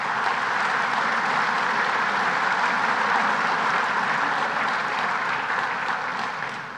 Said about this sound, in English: let's give them a round of applause and thank them for everything they do